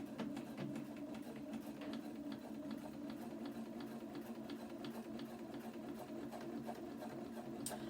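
Sewing machine stitching a quarter-inch seam on a folded rose pinwheel quilt block, a steady continuous whir with rapid ticking needle strokes, running at moderate, even loudness throughout without talk.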